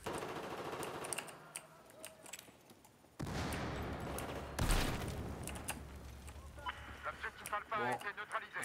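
In Battlefield 4 multiplayer, an ACE 55 CQC carbine fires in rapid bursts of sharp shots between quieter stretches, with a heavy blast in the middle and game sounds around it.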